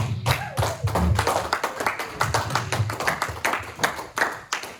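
A church congregation claps together in rhythmic, fairly loud applause honoring the word of God, steady hand claps repeating across the whole stretch with no talking.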